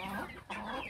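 A young imported Bangkok rooster clucks twice in quick succession, close and fairly loud, with a brief pause between the calls.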